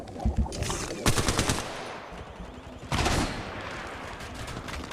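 Automatic gunfire in Apex Legends Mobile, two loud rapid bursts of shots about two seconds apart over a constant background of game ambience.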